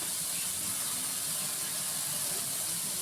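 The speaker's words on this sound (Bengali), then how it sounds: "দিয়ে এবার মশলাটাকে একটু হালকা করে ভেজে নেওয়া হবে।" A paste of ground ginger and cumin with chilli and turmeric powder sizzles and hisses steadily in a pan over a village cooking fire, with a continuous fry and no voices.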